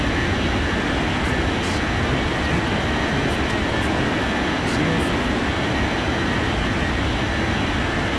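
Jet airliner roar in an air traffic control video game, a steady broadband engine rumble from a plane on the runway, continuous and fairly loud throughout with no voices.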